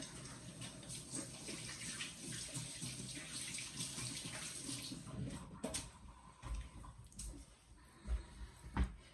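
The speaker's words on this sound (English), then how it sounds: "I'm going to rinse my hands just so I don't get chili juice into my eyes" Hands rinsed under a running kitchen tap while making green chili cheese bread, a steady close rush of water that breaks into splashing and uneven spatters toward the end.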